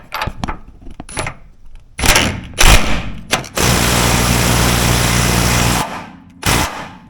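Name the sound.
tightening a RAM 4th Gen rear shock bolt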